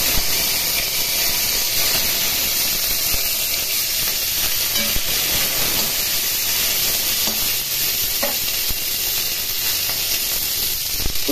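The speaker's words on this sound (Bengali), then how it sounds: "এখন এর মধ্যে ফুলকপি দিয়ে দিলাম।" Cauliflower florets dropped into hot oil in a pan with dried red chilli and cumin, sizzling loudly and steadily for several seconds, with occasional stirring clicks.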